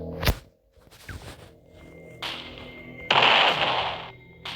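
Sharp gunshot crack followed by scattered bursts, a whooshing swell and noisy blasts, close and loud gunfire in the video game Roblox.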